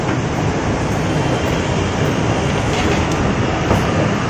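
A train runs through a railway station in Tamil Nadu, a loud, continuous rumble and rattle of rail cars close by, steady throughout with faint clicks and no speech.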